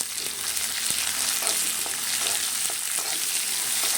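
Long-sliced onions sautéing in hot oil give a continuous, close frying sizzle with a few soft stirring clicks scattered through it.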